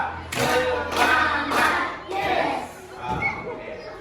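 A school class claps in unison on a teacher's cue during an entrepreneurship lesson on planting chili peppers, several short group claps in a rhythmic pattern mixed with children's voices.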